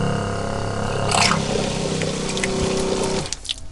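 A boat's water pump, its intake set in a bucket of water, runs with a steady loud whirring drone and watery churn as it tries to build pressure, then cuts off near the end.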